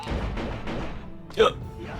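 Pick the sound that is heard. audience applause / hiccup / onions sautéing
hiccup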